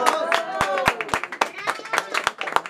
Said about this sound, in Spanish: Ese aplauso bien bonito.